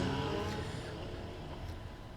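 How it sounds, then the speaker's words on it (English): Road traffic passes outside on a very hot day, a faint continuous rush of cars with a muffled engine swell, heard from indoors. "Apologies if you can hear the traffic"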